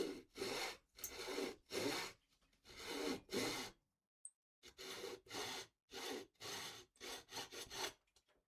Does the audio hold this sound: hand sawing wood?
yes